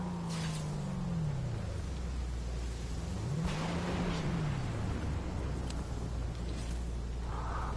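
A car drives in the Fortnite video game, its steady engine drone running low underneath with pitch that rises and falls as it speeds up and eases off, alongside faint game effects.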